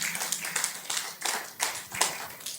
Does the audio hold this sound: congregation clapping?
yes